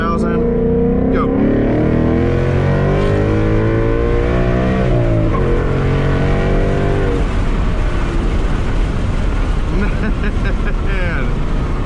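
A Ford Mustang GT accelerates hard in second gear, its engine roaring loud and close as the revs climb steadily, easing off briefly partway through, with rumbling exhaust throughout.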